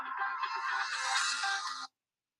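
A mobile phone with an incoming call rings nearby in a bright, steady melodic tone for almost two seconds, then cuts off abruptly into silence.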